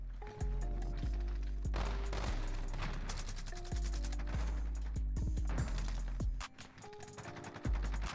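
Rapid automatic gunfire from a P90 and other weapons in a Call of Duty: Modern Warfare multiplayer match, loud bursts of shots cracking in quick succession with short pauses, continuing nearly throughout with no talk.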